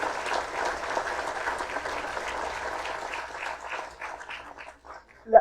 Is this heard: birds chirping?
no